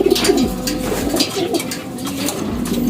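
Bullseye racing pigeons coo close by in a continuous, throaty rolling chorus with overlapping calls.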